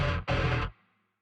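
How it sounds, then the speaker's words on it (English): A distorted bass guitar plays two loud, thick, fuzzy notes with a brief gap between them, then cuts off and leaves a short fading tail. "So here's a distorted bass guitar that I have."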